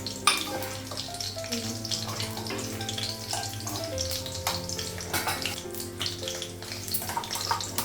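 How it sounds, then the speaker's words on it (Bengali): Lentils tipped into hot oil tempered with green chilli, dried red chilli and panch phoron, sizzling loudly and steadily close by, a dense bubbling hiss that holds for several seconds. "ডালটা ফোড়নে দিলাম"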